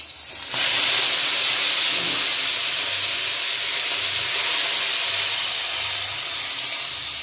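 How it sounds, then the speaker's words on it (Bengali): Rohu fish pieces frying in hot oil for a curry, a loud, sudden hissing sizzle that starts abruptly and holds steady and close throughout. "মাছগুলো সুন্দর করে লাল লাল করেই ভেজে নেব"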